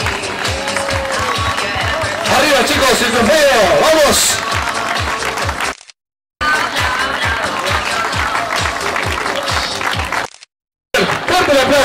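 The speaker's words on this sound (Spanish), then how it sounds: "fuerte el aplauso para ellos, para Jorge Castillo, Carlos Toscano, Daniel Paniella" Crowd applause for the winning runners at a 9K race awards ceremony, steady and loud across the clip with brief dropouts, while an announcer talks over it.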